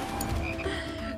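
A frog croak from the video game Final Fantasy VII Rebirth, a short low croaking sound heard clearly on its own over a steady game background.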